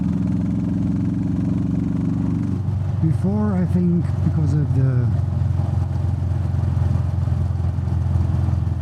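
Royal Enfield Meteor 350 motorcycle engine fitted with a DNA air filter idles in a steady low thrum throughout, with someone talking over it partway through.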